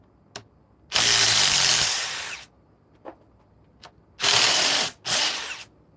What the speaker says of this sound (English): let's try to remove all these with the Ryobi